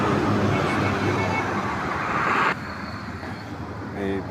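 Road traffic on the Dhaka–Mymensingh highway, a steady broadband roar of passing vehicles that drops noticeably midway, then swells again near the end as another vehicle approaches.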